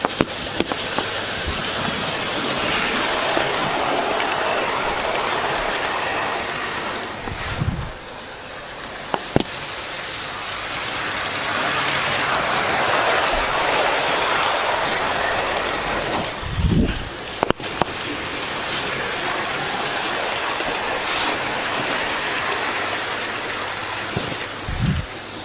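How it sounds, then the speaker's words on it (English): A Hornby model train with coaches and a luggage van rolls past on the track with a steady rumbling whir, swelling and fading as it makes repeated passes, with occasional clicks. "the coaches and the luggage van, they're just rolling along so smoothly behind it"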